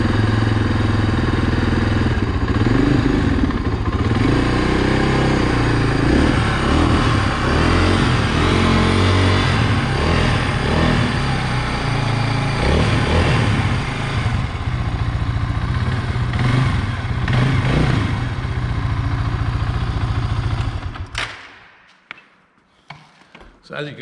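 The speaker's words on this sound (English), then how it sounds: "They're single cylinder engines, so they're just thumpers." A single-cylinder KTM Duke 390 motorcycle engine thumps and revs, loud and close, with rising and falling pulses over a deep throb for about twenty seconds before cutting off abruptly into near quiet.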